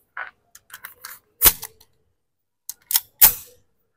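An Arex Zero 1 standard pistol fires with sharp, close cracks: one loud report, then two more in quick succession, with light mechanical clicks before them and no talking.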